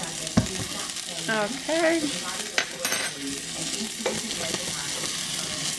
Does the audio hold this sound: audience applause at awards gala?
no